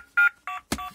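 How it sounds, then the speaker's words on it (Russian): Telephone dialing tones from a Little Tikes toy learning tablet in sound mode, three short electronic beeps, each with steady pitch, the last one more abrupt and clicky, clear and close with no talking. "Телефон."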